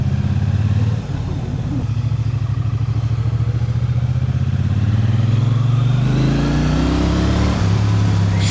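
A CFMoto 675 motorcycle accelerates hard during a test ride, the engine rising in pitch through the gears with a brief dip for a shift, loud and close over steady wind noise.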